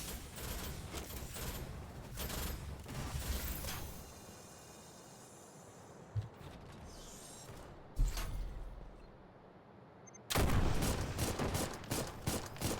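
Video game gunfire aimed at the player, with bursts of rapid shots and impacts in loud clusters separated by quieter stretches, ending in a sustained heavy barrage.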